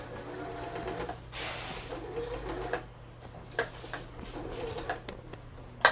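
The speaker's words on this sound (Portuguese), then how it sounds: "então eu vou costurar aqui, ó, três vezes pra ficar bem reforçada essa costura" A sewing machine runs steadily while stitching a seam three times over on a large fabric doll, a quiet continuous mechanical whir with a few small ticks and clicks, fairly faint and without talk.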